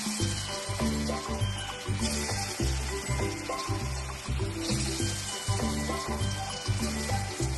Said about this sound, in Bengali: কড়াইতে তেল দিয়ে দিলাম, তেলটা গরম হয়ে গেছে, এবার ভেজে নেব